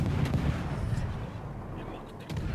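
Naval guns boom in World of Warships, a dense rumble of cannon fire from an Akizuki destroyer, with thudding shots layered over sustained low battle noise throughout.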